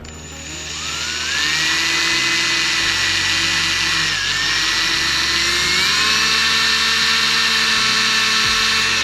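A power drill whirs steadily and loudly at close range, its pitch shifting slightly as it bites, with a low hum underneath and no talking.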